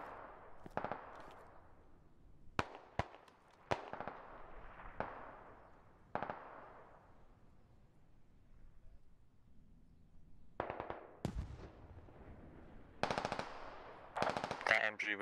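Machine gun fire in the SquadOps video game, sharp bursts of automatic shots in scattered clusters with quiet gaps between, some nearer and louder, others more distant.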